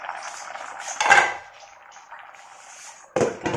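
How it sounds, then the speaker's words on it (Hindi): A metal lid clanks onto a pot of pumpkin halwa cooking on a home stove, one bright ringing clatter followed by another short rattle a couple of seconds later. "मैं लीड लगा के सिम पे पका लूँगी"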